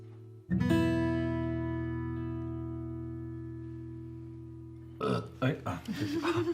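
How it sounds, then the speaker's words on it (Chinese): One long, loud, drawn-out burp holds a low droning tone for several seconds, then people begin talking. "打一嗝"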